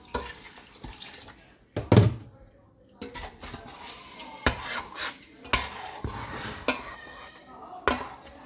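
Water poured into a cooking pot of khabeesa already holding sugar and butter, splashing and stirring with pot and utensil clatter at close range, a loud knock near the start.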